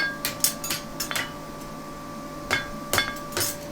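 A farrier's hammer strikes a horseshoe on the edge of an anvil: sharp ringing metallic blows in irregular clusters of two and three, close and loud over a faint steady hum, with no talk.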